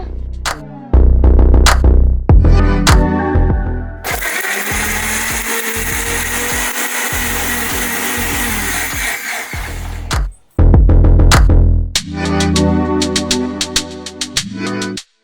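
A mixer grinder grinds masala with coriander leaves and a little water, whirring loudly in bursts, starting and stopping several times before running steadily for a few seconds, then pulsing again.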